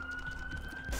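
A brief police siren from The Binding of Isaac: Rebirth holds a steady tone over game noise, with a burst of louder sound right at the end.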